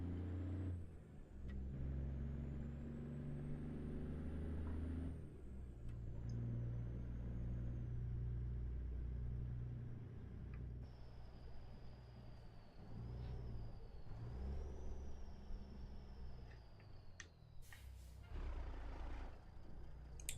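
A Detroit Series 60 diesel truck engine rumbles steadily nearby, a deep throbbing drone with shifting pitch, a faint whine above it and a brief hiss near the end.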